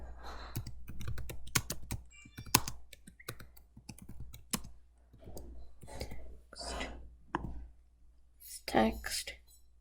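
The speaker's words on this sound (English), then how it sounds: "So I'm going to type in" Keys tapping on a computer keyboard close by, in quick bursts of clicks with short pauses between them, under soft, quiet talking.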